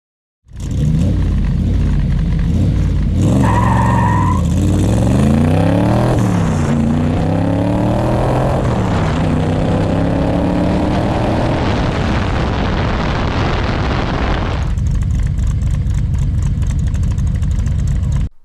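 A Factory Five Cobra on street radials launches hard from 0 to 60 mph with wheel spin, its loud, close engine roaring and rising in pitch through several gear changes before easing off to a rumbling idle.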